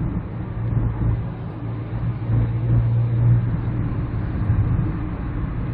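A 2006 Kia Sportage diesel with 270,000 km cruises at 90 km/h around 1800 rpm, giving a steady low engine drone and road rumble heard from inside the cabin, continuous and muffled, without speech.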